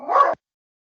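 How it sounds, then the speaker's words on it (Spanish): A single short, close dog bark from a small dog, sharp and brief, then silence. "hablando de los perritos, ya me estaban interrumpiendo"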